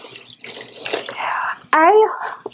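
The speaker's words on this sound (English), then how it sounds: "So now I'm adding in the 6 cups of water." Water pours from a container into a soup pot for Mexican rice soup, a close splashing gush that becomes a loud, bubbling stream after a speaking voice.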